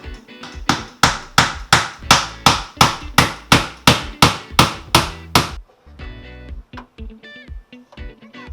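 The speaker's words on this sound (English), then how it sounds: "nailed them on with finishing nails" Finishing nails hammered into kitchen trim during a remodel: a rapid run of about fifteen sharp, evenly spaced hammer strikes, close and loud, then a few scattered softer taps and handling noises.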